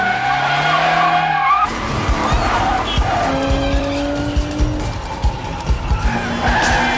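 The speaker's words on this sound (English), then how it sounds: "Those high-speed pursuits in narrow city streets like this chase through Paris." Car chase through narrow Paris streets in the film Ronin, with loud tires squealing and skidding against a steady roaring engine, then a sustained drone broken by repeated sharp thumps and further screeching passes.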